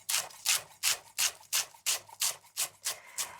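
A sharp knife rocks rapidly through fresh parsley leaves on a board, about ten evenly spaced, crisp close-up chopping strokes in a steady rhythm.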